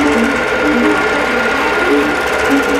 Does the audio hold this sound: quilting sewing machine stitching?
yes